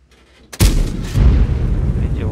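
A single loud tank cannon shot from a Spz 57 Rh in a tank battle video game, a sharp boom after a quiet start, followed by a rolling rumble, with a voice speaking under it.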